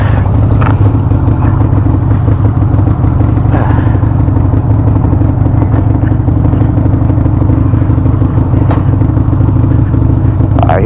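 A Harley-Davidson Sportster 883 on the road, its engine a loud, steady low rumble with rough, throbbing exhaust that holds constant throughout, heard close up with faint wind and clatter layered on top and no talking.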